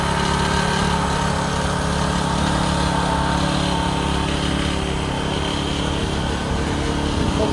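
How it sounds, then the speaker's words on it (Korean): A Honda brush cutter's small petrol engine runs steadily after starting, a loud, continuous high-pitched buzz with no pauses and no voices. "드디어 엔진의 시동이 걸렸습니다"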